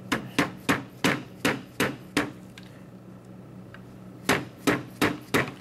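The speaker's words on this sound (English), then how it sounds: "Take a punch." A pin in a bolt kit being driven into an airsoft lower receiver with a punch and hammer, heard as sharp metallic taps in a steady series, then a pause, then another quick run of close, loud strikes.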